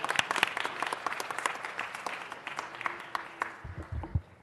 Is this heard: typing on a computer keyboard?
no